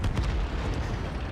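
Artillery fire in the World of Tanks video game: a dense, continuous rumble of low booms with a few sharper bursts early on, loud and steady across the whole stretch.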